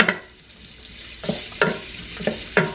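Kielbasa sausage and vegetables stir-frying in a pan, a faint background sizzle broken by several sharp spatula scrapes and taps at uneven intervals, with no speech.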